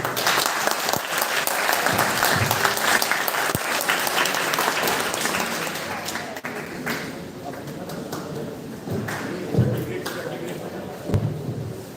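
An audience at a college guest lecture on computer vision and AI gives sustained applause, dense clapping with occasional sharp taps and thuds that eases a little midway and carries on under some talking.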